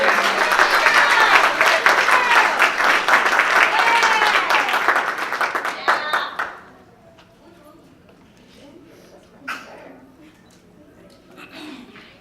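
Ceremony audience at a 2018 D.D.S. event gives a dense round of applause lasting about six seconds before dropping away into a quiet room with faint voices and a few scattered sounds.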